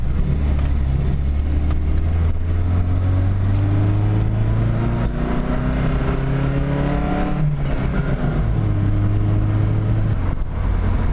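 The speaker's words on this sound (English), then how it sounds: "So we're gonna take it for a little test drive real fast." A Volvo with a newly fitted oxygen sensor on a test drive, its engine droning steadily from inside the car with gear changes and rising and falling revs, continuous road and engine noise throughout.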